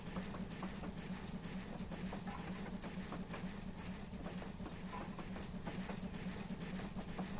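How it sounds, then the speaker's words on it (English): A steam locomotive in a train simulator game, on the Maritime Line's Falmouth branch, labours up an uphill gradient at full throttle. Steady rhythmic chuffing and clicking wheels sit over a continuous low rumble and hiss, with no voices. "I seem to be losing a lot of speed on this uphill gradient"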